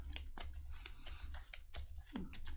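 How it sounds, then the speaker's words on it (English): A Marvel Champions encounter card deck being shuffled by hand on a table, giving a quick run of crisp papery riffles and taps, close and fairly quiet, with no talking. "So we're going to take this and this and shuffle our encounter deck up."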